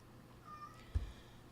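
A cat meows once, a short, faint, thin cry in a quiet room, followed by a soft thump, with no talk.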